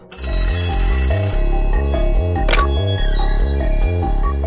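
A telephone rings loudly and steadily in repeated bursts, set in 1935 Soviet Russia with a call from the Kremlin. No voices are heard.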